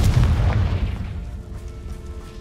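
A single magical blasting-curse explosion bursts loudly up close, then its rumbling boom decays over a couple of seconds into a fading tail.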